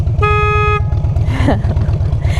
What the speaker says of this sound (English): This is your horn.